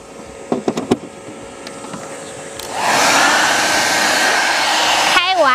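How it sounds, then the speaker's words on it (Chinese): A 1600-watt hair dryer powered by a portable power supply during a vehicle camping trip switches on after a few clicks and runs as a loud, steady whooshing roar. "我这个吹风机是1600瓦的，我把这个制冰机取掉测试一下"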